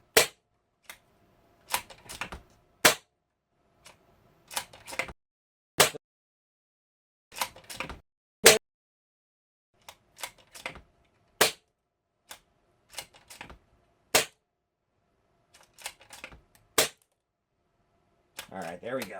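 Diana Outlaw .25 caliber air rifle fired over and over on an outdoor 35-yard range, each shot a sharp, loud crack with a brief metallic ring, irregularly spaced with quiet gaps between, plus faint handling clicks.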